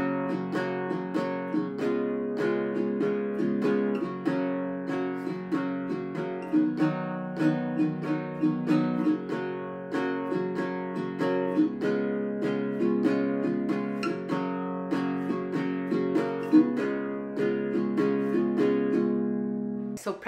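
Solo ukulele strums an eight-bar blues in a steady down-up strum pattern, with bright chords repeating evenly throughout, moderately quiet and with no talking.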